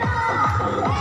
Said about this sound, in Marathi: गाईज बघू शकता खूप जल्लोष चालू आहे